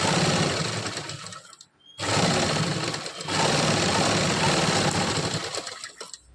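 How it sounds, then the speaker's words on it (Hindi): A sewing machine stitching fabric runs with a steady, loud mechanical whir, briefly dropping off and stopping for a moment before starting up again and running on alone without any voices. "तो ये मैं इक्वल सिलाई मार रही हूँ।"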